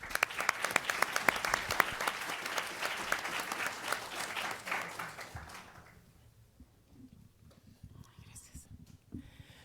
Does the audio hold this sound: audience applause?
yes